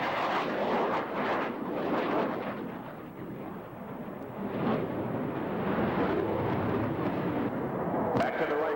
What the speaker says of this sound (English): He will then roll his aircraft 360 degrees with the landing gear extended.